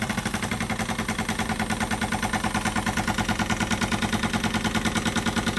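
Small Retrol SE-02 model steam engine from Stirlingkit running unloaded, giving a fast, steady mechanical chuffing and clatter that repeats evenly throughout, loud and close with no talking.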